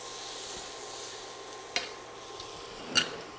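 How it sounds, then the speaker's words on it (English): About a tablespoon of butter sizzles in a skillet with browned salmon, a soft steady hiss broken by two sharp clinks of a utensil against the pan. "we're going to add another tablespoon or so of butter"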